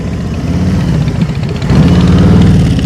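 A motorcycle engine running at low speed during slow-speed riding practice, a steady close idle rumble that swells louder as throttle is applied partway through, with no voices.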